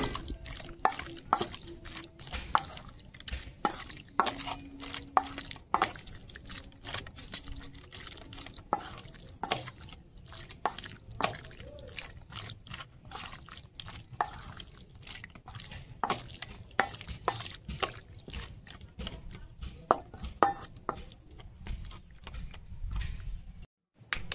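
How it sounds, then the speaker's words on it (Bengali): Chicken being mixed by hand with ginger garlic paste and spices for restaurant-style spicy Chicken 65 gives a steady run of soft, wet squelching and slapping sounds, close and fairly quiet throughout. "সব কিছু উপকরণ দিয়ে মাংসটা ভালো করে মেখে নেব।"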